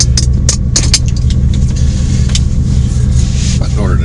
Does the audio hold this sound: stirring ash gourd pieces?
no